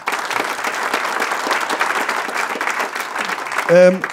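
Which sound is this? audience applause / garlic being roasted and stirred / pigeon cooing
audience applause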